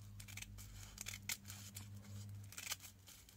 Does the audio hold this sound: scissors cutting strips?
yes